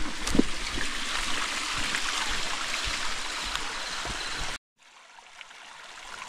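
A mountain stream rushes and gurgles in a steady broadband wash, close and fairly loud, then cuts off abruptly near the end into a much quieter stretch, with no talk.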